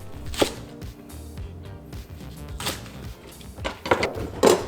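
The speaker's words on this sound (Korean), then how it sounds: "대파는 뿌리 부분으로 3쪽 준비하셔서 먹기 좋은 크기로 반을 먼저 갈라준 후 5cm 정도의 크기로 잘라주세요." A knife chops the root end of green onions, halved lengthwise and cut into 5 cm pieces, on a cutting board: a few sharp, separate cuts spaced unevenly, near and fairly quiet, with no talking.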